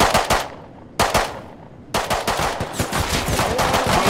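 Gunfire in a video game, aimed at an arriving boat: loud, rapid automatic bursts with a couple of brief pauses, then a sustained stream of shots.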